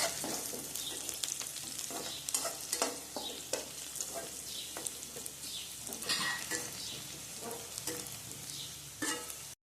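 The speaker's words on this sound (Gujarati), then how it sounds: "ડુંગળીને થોડીક વાર સાંકળી લેવાની" Onions sauté in a pan for a Gujarati bitter gourd dish, giving a continuous close sizzle broken by frequent scraping stirs and light utensil clatter, with no voices.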